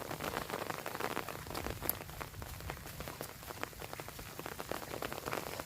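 Steady rain patters over a rice paddy during planting, a dense even hiss of drops with no voices.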